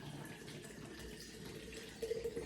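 Distilled water poured into a jar, a continuous trickling liquid sound that grows a little louder at the end, close and moderately quiet.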